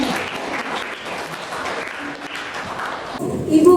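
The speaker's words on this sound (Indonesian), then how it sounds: "Oke, tepuk tangan untuk kita semuanya." A class breaks into applause, a steady wash of clapping hands that holds for several seconds before cutting off abruptly near the end.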